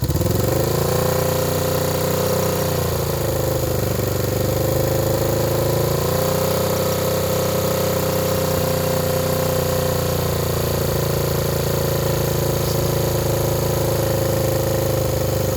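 A 1975 Honda CB360T motorcycle engine runs steadily and loudly throughout, its pitch climbing and settling in a few moderate revs around 2,000–3,000 rpm, with no talking.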